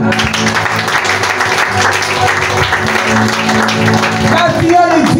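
Church congregation applauding to acclaim the Lord, a loud sustained wash of clapping that stays dense and continuous, mixed with voices and music underneath.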